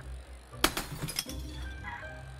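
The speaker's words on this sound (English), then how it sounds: "glass was no match for me" Glass shatters in the Guts and Glory video game, a sharp loud crash with a spray of tinkling shards that rings out briefly, then fades into low game background noise.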